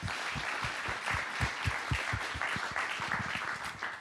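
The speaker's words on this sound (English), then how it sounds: "let's give them a collective round of applause" An audience applauding at an innovation competition showcase, dense clapping with distinct close hand claps punching through a broad wash of many hands, sustained at an even level with no talking.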